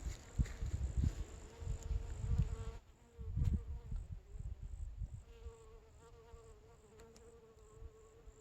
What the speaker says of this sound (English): Spiderwort and the bee doing the bee thing.